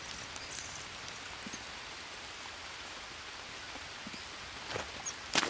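Steady rain pours through a jungle in the survival video game Green Hell, a dense continuous hiss with scattered droplet taps and a couple of brief louder splashes near the end.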